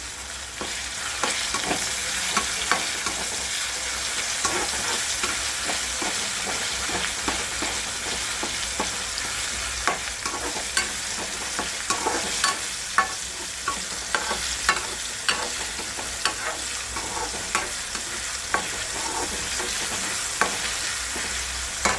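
Curry leaves fry in hot oil in a pan for a Maharashtrian Sangli-style bhogi vegetable dish, with a continuous crackling sizzle and frequent sharp scraping strokes of a spoon stirring against the pan, close and steady.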